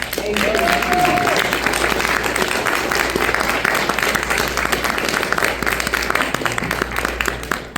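An audience at an Elks lodge author reading claps steadily to welcome a speaker, a dense, even wash of applause with a brief voice or whistle near the start.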